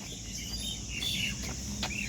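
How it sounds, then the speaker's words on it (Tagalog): Birds chirp in an outdoor park, several short tweets and thin whistled calls rising over a constant broadband background hum, moderately distant and fairly faint. "Mga ibon nagkalat."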